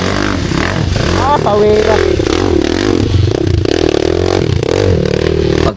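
Motorcycle engine revving and pulling hard on an enduro ride in the Philippines, loud and continuous throughout with scraping and clatter, under a voice talking.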